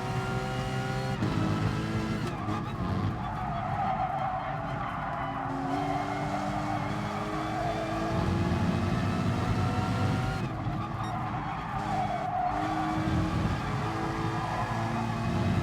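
A Lamborghini racing car in GT Sport at the Red Bull Ring, its engine droning steadily at high revs with shifting pitch through gear changes, loud and close throughout with other race cars around and occasional tyre noise.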